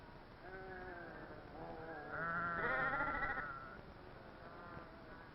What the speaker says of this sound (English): have flocks of sheep